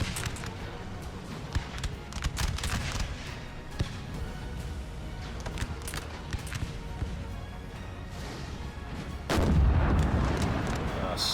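Artillery fire on a Napoleonic-era battlefield in the strategy game Napoleon: Total War, scattered cannon booms and musket-like cracks over a continuous battle din, with a louder rumbling blast near the end and a voice talking.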